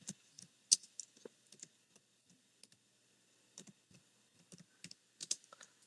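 Quiet, irregular key clicks come from someone typing text on a computer keyboard in a code editor, with scattered bursts of keystrokes separated by short pauses.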